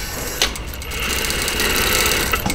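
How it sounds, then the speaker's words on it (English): A sewing machine stitching a sleeve band onto a short puff sleeve, a fast steady mechanical whir with a click at the start, close and continuous. "before I start stitching, I'm going to reset my stitch length back to its original position."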